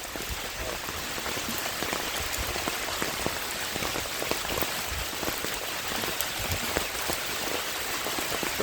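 Rain pours steadily during fishing in a constant wash of hiss and patter, close and even throughout with no voices.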